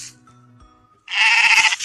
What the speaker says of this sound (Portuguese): Tem mais, tem mais. Tem mais ovelha.